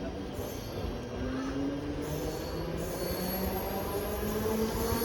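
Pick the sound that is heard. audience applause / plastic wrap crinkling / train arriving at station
train arriving at station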